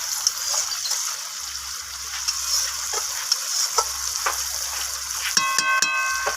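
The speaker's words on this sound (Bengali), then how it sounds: "তো একটু হালকা হাতে মাছটাকে আবারও নাড়াচাড়া করে নিচ্ছি।" Spicy fish curry with coriander leaves being gently stirred in a pan, a low bubbling sizzle broken by soft scraping strokes of a spoon, close and fairly quiet, with a faint tonal beep near the end and no talking.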